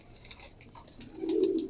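Red Amritsari pigeons with burnt-looking feathers coo softly, a faint low rounded call swelling near the end over light background chirps and noise.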